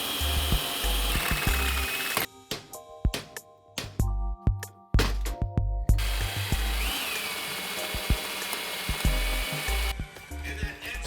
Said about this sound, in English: Drill a hole and a bunch of stuff comes out.